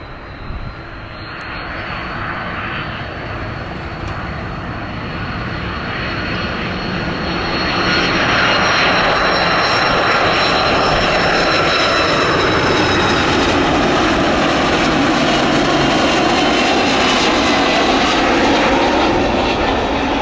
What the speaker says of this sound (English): a Finnair A330 coming in with a special livery